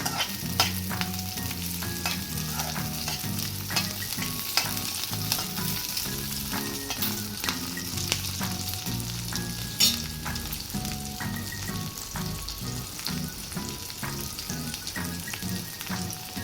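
Green chillies frying in oil in a pan, a continuous dense sizzle with light stirring, under steady background music.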